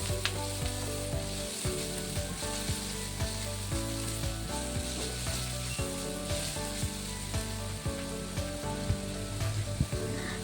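Onion, garlic and ginger sauté in oil in a pan for salmon-head tinola, a soft, constant sizzle broken by occasional stirring, with no one speaking.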